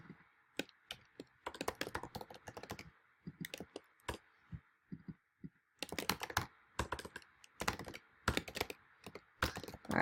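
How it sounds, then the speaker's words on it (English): Someone types on a computer keyboard while editing a template, with rapid clusters of close key taps broken by short pauses and then a final dense run of keystrokes. "you can just start typing and it will replace that"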